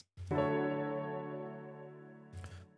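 A Nord keyboard piano line panned hard right with slightly altered EQ: one sustained chord rings out alone after a short soft onset and decays slowly, with a brief new attack near the end.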